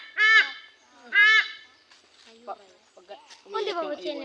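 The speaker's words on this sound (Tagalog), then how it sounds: "Umiiyak yung ibon na yun." Injured goose crying out with two loud, harsh honks up close, followed by softer squawks and calls, with people talking quietly in between.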